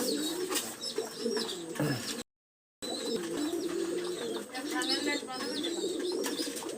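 Pet pigeons coo repeatedly in a loft, close and fairly loud, with a brief dropout partway through and someone talking faintly in the background.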